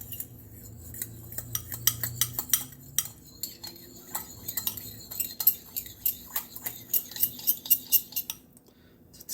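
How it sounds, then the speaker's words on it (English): A fork beats an egg in a bowl with quick, rhythmic metallic clinks and taps, close and steady for most of the stretch, trailing off at the end. "you'll take a fork, and you're just going to beat that egg nice and yolky"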